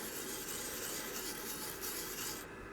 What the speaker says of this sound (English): Another tool that you could use to start before the sandpaper would be a wire brush. So you brush,